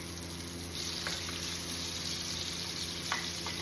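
Chopped onion and garlic sautéing in a pan while Filipino pinakbet-style vegetables are prepared, giving a steady low sizzle throughout with a couple of faint utensil clicks, no talk.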